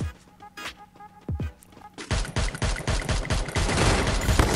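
Rapid bursts of automatic gunfire in the Free Fire battle royale game, a few scattered shots at first, then a dense, loud stream of rounds firing in quick rhythm.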